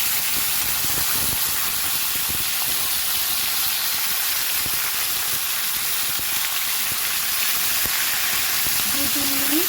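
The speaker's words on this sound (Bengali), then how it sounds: "দু 3 মিনিট সবজিটাকে তেলের মধ্যে কষিয়ে নিলাম।" Chopped vegetables for a pui shak and shrimp dish fry in hot oil with a loud, continuous hissing sizzle that holds steady throughout.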